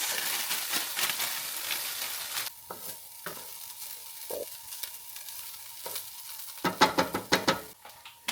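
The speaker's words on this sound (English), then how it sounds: "we're just going to fry some onions first before we add the mince." Onions frying in a pan give a bright, hissing sizzle that dies down partway through, then return with quick scraping stirs, close and moderately loud.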